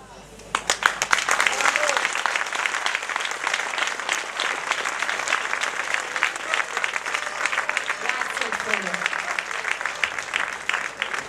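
An audience at a Corrida amateur talent show in Castri di Lecce bursts into sustained applause, dense clapping rising quickly and carrying on throughout, with a voice talking over it.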